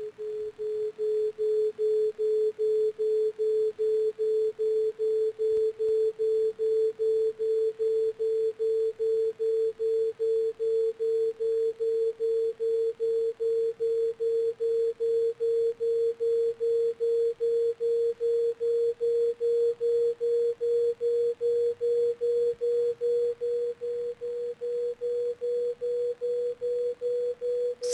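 A steady electronic sine tone represents the colour of grass, holding a single mid pitch that creeps slightly upward over nearly half a minute, with constant loudness and no voices.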